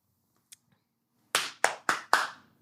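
Four sharp hand claps ring out in quick, even succession from a podcast host counting in to sync the recording, close and crisp, after a faint tap and near-silence, with no talking over them.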